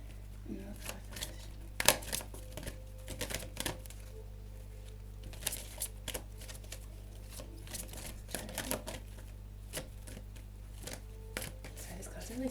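Tarot cards are handled and shuffled during a reading, with scattered soft slaps, flicks and papery rustles over a steady low hum, close and quiet throughout.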